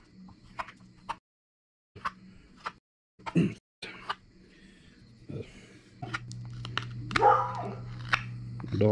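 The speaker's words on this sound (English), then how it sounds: "Dog saying hi." A dog makes brief, faint snuffling and whining sounds in a quiet spoon-carving woodworking space, scattered in short bursts over a low background hum.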